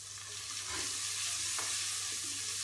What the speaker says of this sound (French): Je remue simplement.